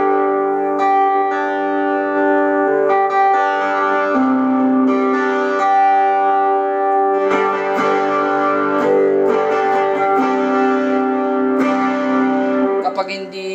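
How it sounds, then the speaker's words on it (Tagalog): Electric guitar played through drive pedals in a worship-team style sample tone, sustained chords and ringing notes with chorus and reverb, steady and fairly loud throughout with no talking. "Bibigyan ko kayo ng sample tone na ano ba yung mga tunog ko kapag ako gumagamit sa worship team,"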